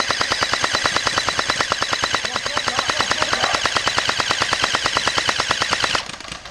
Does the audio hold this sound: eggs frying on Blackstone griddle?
no